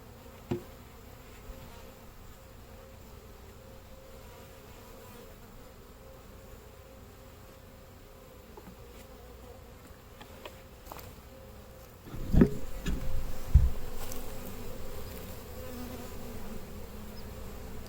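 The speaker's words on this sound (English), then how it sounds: "I'm just making sure the queen's not on the lid since this is a fairly full hive. A lot of bees in here." Honey bees hum around an open, fairly full hive in a steady, droning buzz, close and continuous, swelling louder near the end as handling knocks and bumps sound over the swarm.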